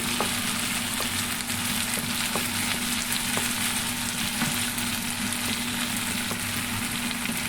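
Potatoes stir-frying in a pan give a continuous close sizzle, with faint regular scrapes or taps of a utensil roughly once a second.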